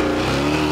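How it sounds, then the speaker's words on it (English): Supercharged car engine held at a steady rev, a smooth continuous drone with a sustained high blower whine layered on top, close and alone. "Every time I crank it up, I hear that blower whine."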